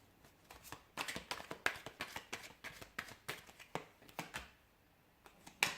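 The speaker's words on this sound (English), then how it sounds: "I'll give the cards a shuffle and we'll take it from there." Tarot cards being shuffled by hand, a quiet run of soft riffling flicks and slaps in an irregular rhythm, close and faint, with no talking.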